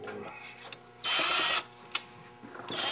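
A screw is driven back into a Rovac handle through epoxy washers. Faint mechanical clicks are followed by a half-second burst of driver whir, a sharp tick, then quiet rattling.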